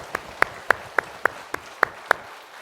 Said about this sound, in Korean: 우리 부활 승천하신 우리 주님께 영광의 박수 올려드리겠습니다